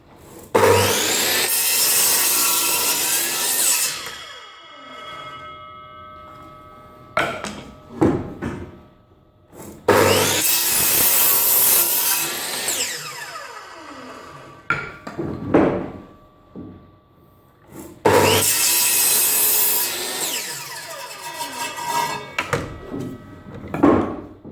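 A hand saw cuts through wood boards for a bunk bed build, in three long bursts of rapid rasping strokes, close and loud, separated by pauses with knocks and handling noises.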